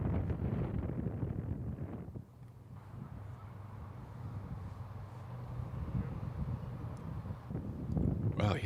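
Strong wind gusting across an open disc golf course at the Portland Open, buffeting the microphone with steady low rumbling that swells near the end, while a commentator talks over it.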